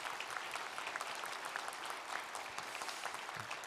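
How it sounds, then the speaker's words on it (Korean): A church congregation breaks into a quiet, continuous round of clapping in encouragement, an even patter of many hands heard from a distance. "격려박수 힘내라고"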